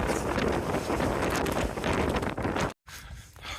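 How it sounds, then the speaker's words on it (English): Strong wind roars across the exposed Franconia Ridge on the Appalachian Trail, a loud continuous buffeting of the microphone that cuts out briefly near the end, then returns more softly. "Somehow getting windier."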